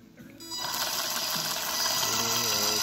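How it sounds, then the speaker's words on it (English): A Wltoys 144001 RC car's electric motor and gears spin steadily on the bench, a continuous whirring whine that starts after a brief pause and holds loud and even throughout. "You see it is spinning, and the gear seems like it's not broken or anything"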